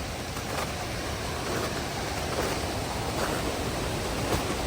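Cold Brook Fall, a springtime waterfall on an Appalachian trail, rushes in a steady, dense roar that fills the whole span without pause, heard from nearby with no voices.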